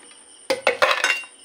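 Crispy fried potato chips lifted from a pan, making a close burst of four or five quick clinking, rattling scrapes of metal against cookware, with no talking.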